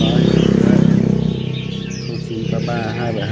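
A talking bird chirps and coos steadily at close range, its calls mixed with a person talking over it.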